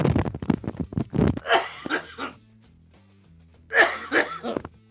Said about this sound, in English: You ever have a cough that just like won't?